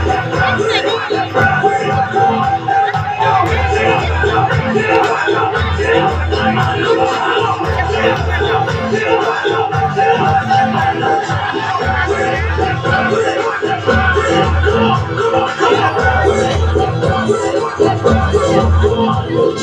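Loud, continuous crowd noise from an audience at a village cultural gathering in Konkan, with cheering, whoops and babbling voices that could carry clapping, sustained throughout without pause.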